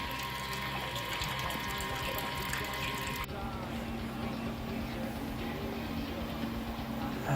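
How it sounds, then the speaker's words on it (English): Sparge water pours steadily onto the grain bed during a Citra pale ale brew day, a continuous close splashing flow with a faint tone that stops partway through while the rushing water carries on. "And now we're sparging. Just getting that flow rate right."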